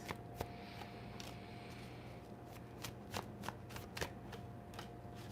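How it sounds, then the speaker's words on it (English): Tarot cards shuffled close by in quick riffling bursts, with sharp flicks and soft slides against a steady low hum and no talking. "Let's pull 3 cards on this."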